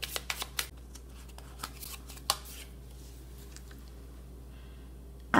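Oracle cards are shuffled by hand, a quick burst of crisp riffling clicks at the start, then faint, sparse shuffles and a final flutter of cards close by.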